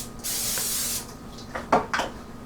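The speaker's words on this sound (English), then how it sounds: "I'm gonna spray it with Pam" Pam cooking spray hisses onto a George Foreman grill in one close, steady burst of about a second, followed by a few light clicks and short bumps of handling.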